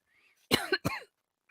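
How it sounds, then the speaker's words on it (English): Two short, harsh coughing bursts close to the microphone, one right after the other, with a faint breathy sound before and a tiny trailing noise after. "have a coughing fit"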